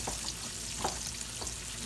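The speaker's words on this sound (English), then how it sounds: "I'm gonna move it over here so y'all can see it frying" Steady hissing sizzle of buttermilk-and-flour-coated chicken frying in hot oil in a skillet, close by, with occasional soft pops and crackles and no voices.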